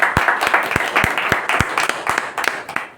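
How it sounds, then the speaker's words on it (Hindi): Scattered hand claps from a small gathering at a village police-station meeting in Pasgawan, Kheri, Uttar Pradesh, about a dozen sharp claps in an uneven rhythm over three seconds, fairly close, with a murmur of voices underneath. "आप सभी लोग तालियों से उनका स्वागत करें"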